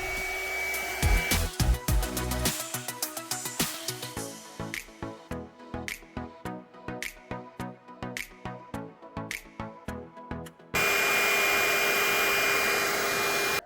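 A hot air rework tool heats a chip on a Moto G7 circuit board, first a rapid rhythmic pulsing hiss, then a steady loud blowing roar near the end, with no voices.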